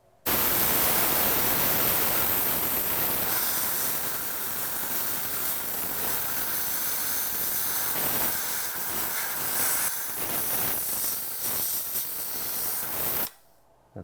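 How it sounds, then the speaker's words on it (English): A loud, continuous hiss of pressurized steam from a steam cleaner on a moldy Midea window air conditioner runs almost unbroken for several seconds, then cuts off abruptly. "I'm just going to steam this whole thing"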